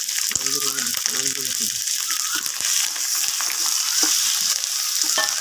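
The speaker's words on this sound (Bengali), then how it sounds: "সব মশলা দিয়া কষিয়ে নেব" Ginger paste, onion paste and turmeric frying and stirred for a village-style rohu fish curry, a loud continuous sizzle with brief voices and tonal sounds early, then steady scraping stirs.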